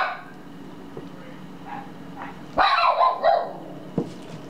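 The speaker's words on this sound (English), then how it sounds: "my dog is barking." A dog barks in a home during a soap-making session. Several loud, close barks come in a quick cluster near the end, with one more short yelp after a pause, over quiet room noise and no talk.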